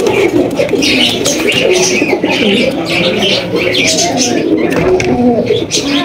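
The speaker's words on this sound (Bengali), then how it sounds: "এখানে রয়েছে দর্শক দুই জোড়া ব্লু শার্টিন কবুতর" Two pairs of blue satin pigeons coo continuously, their soft, throaty calls overlapping close by with faint chirps over a constant background.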